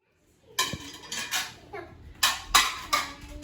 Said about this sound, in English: Good girls are doing some chores, getting the dishes unloaded.